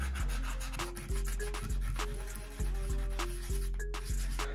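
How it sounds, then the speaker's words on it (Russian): Rhythmic rubbing and scraping strokes of sanding on a Volkswagen Polo Sedan's metal wheel rim, repeating roughly every half second, close and moderately loud. "Ну а далее можно уже приступать к окончательной шлифовке диска."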